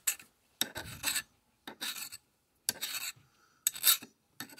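Metal file rasping across a small lower bearing race from a cheap Chinese X-Y table lead screw assembly, deburring it in five separate short strokes with pauses between, close and fairly quiet.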